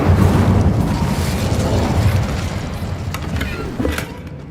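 A fiery Incendio spell blast in Hogwarts Legacy sounds as a loud, deep roaring burst right at the start that rumbles on and slowly tapers off, with faint crackles near the end.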